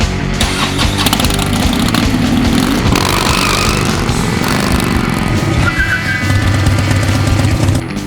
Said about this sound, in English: Rev up your engine.